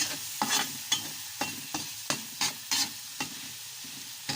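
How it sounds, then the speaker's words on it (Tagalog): Tomatoes being stirred and crushed in a frying pan for chicken mechado, with a steady run of sharp scraping stirs over a soft sizzle, close and alone. "Haluin natin hanggang madurog ang kamatis."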